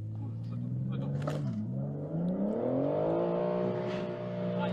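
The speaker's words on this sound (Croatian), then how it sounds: "Idemo sad da testiramo auto moj" A 2023 BMW M4 engine revs on a test drive, a deep droning tone rising steadily in pitch as it accelerates, heard from inside the car and fairly loud.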